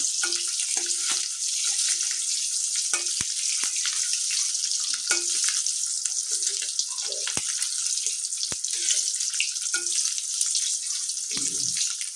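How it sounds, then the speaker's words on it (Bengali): Fried eggs sizzling hard in a wok, a dense continuous crackle of hot oil with occasional soft scrapes and knocks of a utensil, no voices. "ডিমগুলো ভাজা হয়ে গেছে, এখন নামিয়ে নেব ডিমগুলো।"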